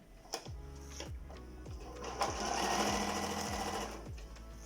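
A sewing machine stitches homemade pants sewn from pha khao ma loincloth fabric, with rapid, close mechanical whirring in short bursts and a series of regular thumping knocks as the needle drives.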